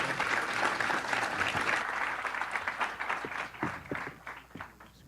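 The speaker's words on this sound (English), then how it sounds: "Round of applause" An audience at a fellowship presentation gives a round of applause, a steady crackling wash of many hands that thins into scattered individual claps toward the end.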